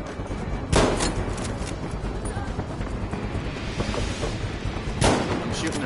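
Gunfire from a video game rings out in two sharp, loud bursts, one early and one late, over a constant dense rumble of shooting and game noise.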